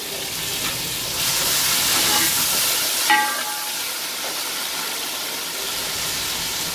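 Garlic-ginger paste hits a pan of fried onions with a close, hissing sizzle that swells for a couple of seconds, then settles into a steadier bubbling fry with a brief clatter, no voice present.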